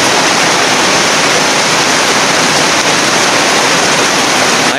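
Heavy rain pours down steadily in Mindanao while a small canal overflows, making a loud, continuous roaring wash of water close by that never lets up, with no talking.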